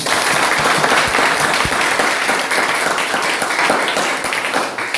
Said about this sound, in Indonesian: Silakan berikan tepuk tangan buat mereka